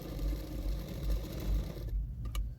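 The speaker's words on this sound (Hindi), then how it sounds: "दोनों साइडों में ही मैं इस तरह से फिटिंग के लिए सिलाई कर रही हूँ" Sewing machine running steadily as it stitches a kurti fitting seam along marked lines, a close, rapid mechanical rattle for about two seconds before stopping abruptly, with a couple of faint clicks after.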